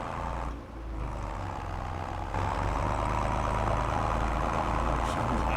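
An old tractor engine idles in Farming Simulator 25, a steady low diesel rumble that holds loud and even throughout, with a slight dip early on and no speech.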